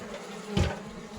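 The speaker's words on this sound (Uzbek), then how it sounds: "mana shundan o'tib qaytib yuribdi arilar" Honeybees buzz around a hive entrance drilled open in the box; one bee passes close by in a brief swelling drone over a steady background hum.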